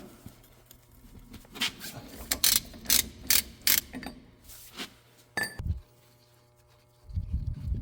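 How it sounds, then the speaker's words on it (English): A ratchet with a 2 1/4 inch socket works the outer locking nut off a semi trailer wheel hub, giving bursts of sharp metallic clicking in quick runs, then a clink of the nut and a low rumble at the end. "So you're going to take a 2 1/4 inch socket. And we're just going to remove the outer locking nut."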